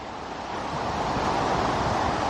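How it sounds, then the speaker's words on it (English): Strong wind roars continuously across open water at a carp fishing lake, a dense rushing blast that builds slightly and never lets up. "It's really starting to get quite windy, to be honest."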